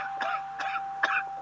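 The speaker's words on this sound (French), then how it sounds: "Arrête de tousser, putain." A person coughing three times in short, sharp bursts, close and fairly clear over a faint steady electronic hum.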